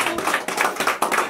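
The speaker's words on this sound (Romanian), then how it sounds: "Aplauze!" Applause at a Romanian Mother's Day family flower-greeting event: close, steady clapping from a few people with rhythmic bursts, loud and continuous through the short stretch.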